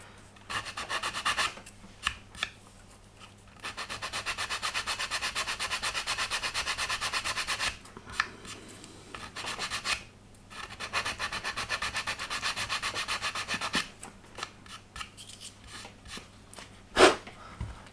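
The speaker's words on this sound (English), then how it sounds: "when you've finished sanding" Hand sanding a wooden ship model with laser-cut detail: long raspy rubbing strokes in several bursts separated by short pauses, close up, ending with a sharp tap.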